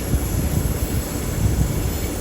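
A Class 390 electric train runs through a London terminus, giving a steady, close rumble of wheels and traction with a thin high whine held throughout and no break in the noise.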